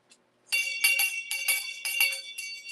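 A bell rings repeatedly in a library, a quick run of bright, close metallic dings in uneven bursts after a moment of near silence.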